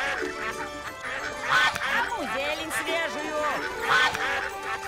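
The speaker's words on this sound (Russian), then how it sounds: "Гуси." Geese cackle and honk in a nearby flock, repeated nasal calls rising and falling in quick bursts, with some talking in between.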